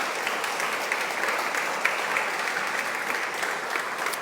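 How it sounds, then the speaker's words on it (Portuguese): Steady, dense applause from a church congregation, many hands clapping together in a continuous even roar that holds at the same level from start to finish. "Ele pode aplaudir a Jesus"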